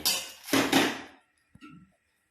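A cooking pot being set down and handled in a kitchen, with a couple of bright metallic clatters and scrapes early on, then a short knock and rattle after a brief pause.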